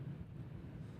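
Wind buffets an outdoor microphone at Nashville International Airport, a steady low rumble that stays constant and fairly faint for about a second.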